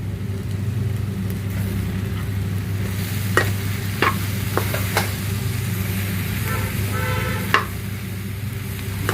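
Soya chunks sizzling in a hot pan for a Telugu-style soya chunk curry, with steady frying hiss under scattered scraping clicks of a spoon stirring, close and continuous without talk.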